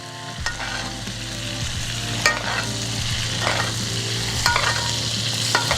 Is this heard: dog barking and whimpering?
no